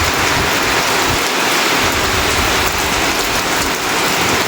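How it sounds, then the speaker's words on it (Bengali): Heavy rain pours steadily during an early-morning thunderstorm, a loud, dense, unbroken hiss of drops close by, with no voices. "ভোরবেলা কি মেঘ ডাকছে, বৃষ্টি হচ্ছে।"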